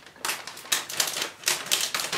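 Household scissors in need of sharpening slicing through paper: a series of crisp, close rasping cuts in an uneven rhythm, six or so strokes with no talk.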